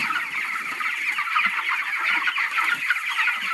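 Many chickens cluck and chatter continuously on a poultry farm, a dense flock of overlapping calls at close range with no talking.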